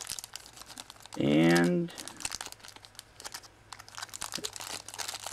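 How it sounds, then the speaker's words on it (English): Packaging tape crinkles and rips loudly in one burst off a Fansprojects City Commander add-on toy set, followed by quieter rustling of the discarded packaging while someone speaks briefly nearby. "tape everywhere, tape. I'm just gonna rip it."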